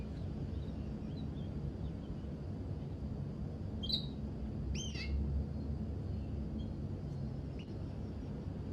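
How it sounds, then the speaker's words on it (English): Birds in the video game Heavy Rain chirp a few brief, faint high calls over a steady low ambient hum. "And birds."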